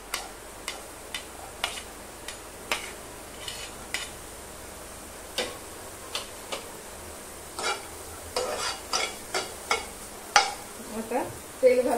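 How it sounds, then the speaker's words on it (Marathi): Chopped onion fries in oil for a dried small-shrimp and raw mango dish, under a soft sizzle. A utensil scrapes and taps against the pan in irregular, sharp clicks as the onion is stirred. "आता कांदा छानपैकी आपल्याला फ्राय करून घ्यायचा आहे तेलामध्ये।"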